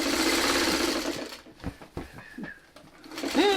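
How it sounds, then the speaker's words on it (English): A sewing machine whirs steadily at first while sewing quilt sashing, then slows and stops in a few short bursts, with a bird cooing faintly nearby. "And the sewing machine."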